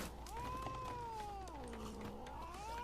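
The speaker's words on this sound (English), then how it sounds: "Excuse you, kitty cat." A cat meows in The Witcher 3, one long drawn-out wavering yowl with falling and rising pitch, loud and close over a steady background hum, with no talk.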